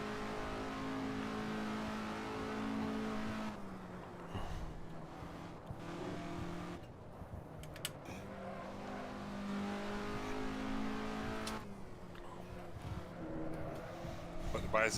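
A race car engine in a racing simulator game drones steadily and shifts pitch as gears change through corners, rising and falling under continuous talk at moderate level.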